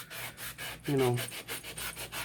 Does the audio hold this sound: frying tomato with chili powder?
no